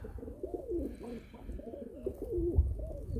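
Repeated soft pigeon coos, low and throaty, roll on continuously at close range over a faint background hum.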